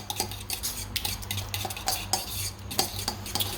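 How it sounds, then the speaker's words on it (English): A smoked paprika spice mixture stirred in a bowl with a spoon, quick repeated scraping and clinking strokes against the sides, close and steady for a few seconds. "I'm just going to stir it up and see what my texture's like."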